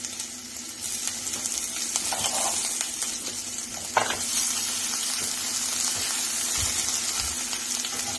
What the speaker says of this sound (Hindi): सो गार्लीक घाल, लसूण